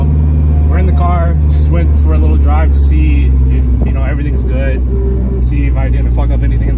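A Nissan S14 with a welded differential drives along, its engine droning loud and steady inside the cabin while someone talks over it throughout.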